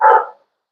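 One short, sharp dog bark, close and loud, cut off quickly and followed by silence.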